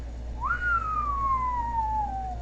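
A single clear whistled note swoops upward, then glides slowly downward for about two seconds over a low background hum.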